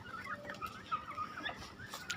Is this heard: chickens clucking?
yes